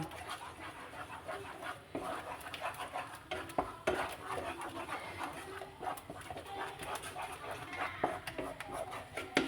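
A spoon scrapes and stirs thick chattipathiri dough in a pot, with steady, repeated clinks and scrapes up close and no talking.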